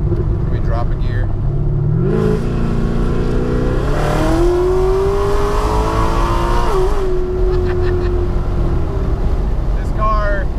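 A car engine revs hard and climbs in pitch through the gears, loud and close, with wind buffeting and a voice talking over it.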